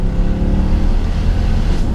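The V8 engine of a 2012 Mercedes C63 AMG coupe drones low and loud, close up as the car drives, a steady deep rumble with no voices over it.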